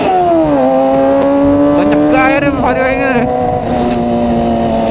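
Motorcycle engine revving on a road alongside a Honda Vario scooter, a loud close engine note that holds steady, then rises sharply in a short burst and settles back, with wind noise.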